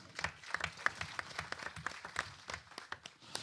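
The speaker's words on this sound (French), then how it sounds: "Et vous pouvez applaudir," Scattered, fairly sparse clapping from a conference audience at a plenary session, individual claps distinct and uneven in rhythm, moderately loud throughout.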